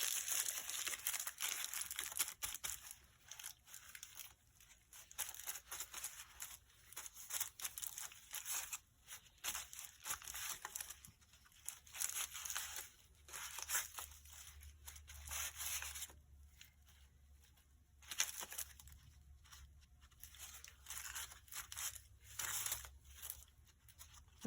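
Wax paper crinkles and rustles in bursts as it is handled for a textured journal page, the soft crackling coming in irregular, fairly quiet bouts with short pauses between.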